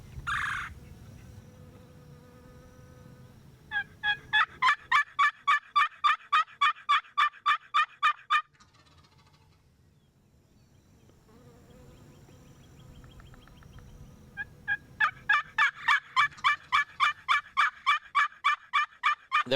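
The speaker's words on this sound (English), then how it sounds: "and we just started yelping." Turkey calls on an Osceola hunt in Florida: two long runs of sharp, evenly spaced yelps, each lasting several seconds, separated by a quieter stretch with softer rattling gobble-like calls, fairly close and with no talking.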